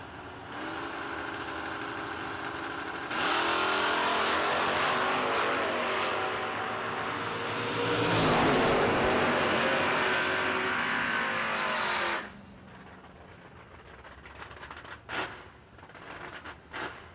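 A 1978 Malibu wagon and a 1978 Camaro launch side by side in a drag race, engines roaring loud and steady for several seconds before cutting off abruptly, leaving quieter ambient noise with faint distant pops.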